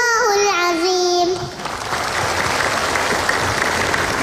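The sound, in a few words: applause for a child Quran reciter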